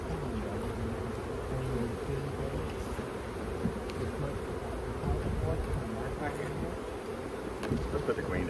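Honeybees drone in a steady, close swarm while hives are split outdoors. The buzzing stays loud and continuous throughout, with faint handling noise and no clear talk.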